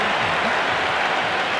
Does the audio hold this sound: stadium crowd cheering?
yes